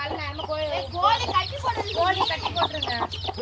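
Chickens cluck in a busy, overlapping chatter close by, with a low steady hum underneath.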